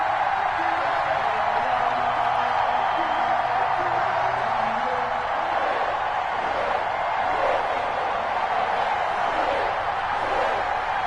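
Stadium crowd roaring steadily in an EA Sports football game before a Seattle Seahawks versus Cincinnati Bengals matchup, a dense, continuous wash of cheering with no clear breaks.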